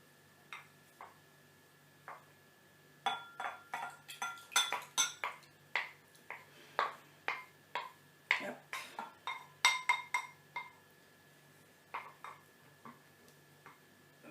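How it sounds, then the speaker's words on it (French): A homemade moisturising face mask mixture stirred in a bowl, with rapid rhythmic clinks and scrapes of a utensil against the sides, close and fairly quiet, alone without talk. "On mélange une nouvelle fois pour que ça fasse un mélange assez homogène. On tourne, on tourne, on tourne."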